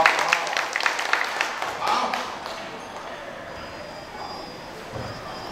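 An audience at a science talk on algae gives a short round of applause. Dense clapping for about two seconds, then fading into background murmur, with voices talking over it.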